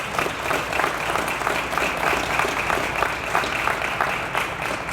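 An audience at a company expansion announcement in Richmond applauds council members with loud, dense, continuous clapping that holds steady for the whole stretch.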